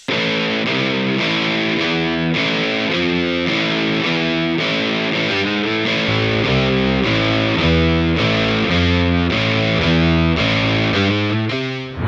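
Distorted guitar and bass riff in a song, guitar pitched up one semitone by a DigiTech Whammy DT and doubled an octave lower by an Electro-Harmonix Micro POG, loud, dense and driving throughout, heavier low end after midway.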